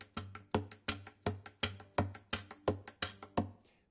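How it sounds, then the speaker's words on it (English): An acoustic guitar body slapped by hand as a percussive effect, about ten sharp, evenly spaced thumps with a short ring after each, close and fairly quiet, with no voices. "if you just slap it and get a percussive effect"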